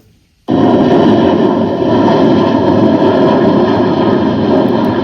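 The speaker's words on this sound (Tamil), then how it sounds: "இதுதான் டேக் ஆஃப் ஆகிற சவுண்டுங்க" After a brief quiet moment, a powerful jet roar bursts in and stays loud and sustained as an Air India airliner takes off.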